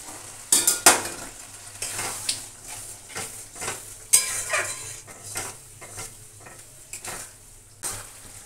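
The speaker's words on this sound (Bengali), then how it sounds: "মশলাটা আমার ভাজা ভাজা হোক, তেল ছাড়ুক," Spice paste for a traditional potato and mutton curry sizzles and fries in oil in a pan, with a steady crackle and repeated scraping stirs of a utensil against the pot, close and alone.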